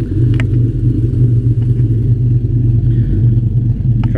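A 2008 Dodge Charger R/T's engine idles close by, a loud, steady low rumble with a pulsing throb and no revving, plus a couple of faint clicks, with no one talking.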